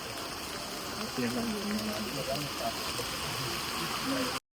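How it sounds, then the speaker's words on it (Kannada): Heavy rain pours and water rushes along a market street in Chickpete, Bengaluru, as a steady, dense hiss that fills the whole clip without letting up. "ಚಿಕ್ಕಪೇಟೆಯಲ್ಲಿ ಮಳೆ ಬಂದು ಸುನಾಮಿ ಥರ ಆಗ್ಬಿಟ್ಟಿದೆ"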